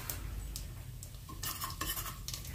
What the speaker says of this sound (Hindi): हल्का सा इसको मिक्स करेंगे